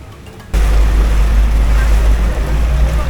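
Murchison Falls on the River Nile in Uganda roars with heavy, continuous rushing water, loud and close and thundering in the low end, starting abruptly after a brief quieter moment and holding steady to the end.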